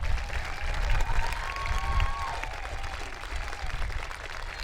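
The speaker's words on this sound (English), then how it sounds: "I'm just going to stop so you can give them a round of applause one last time." An audience at a middle school 8th grade recognition ceremony claps for the students, a busy continuous patter of many hands with faint cheers and crowd murmur mixed in.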